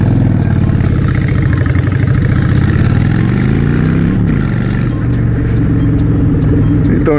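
A custom motorcycle engine runs loud and close with a rough, pulsing beat, its pitch rising and falling as the throttle is blipped, while a voice talks over it.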